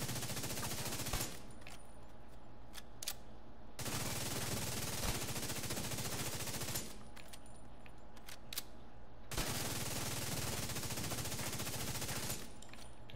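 Sustained automatic weapon fire in a video game raid build test, loud and continuous in long unbroken bursts. Three extended volleys are separated by short pauses, each a dense rapid rattle of shots. No voices.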